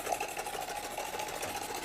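A steam engine starts up, running in a rapid, even mechanical chuffing rhythm, faint and steady at a short distance.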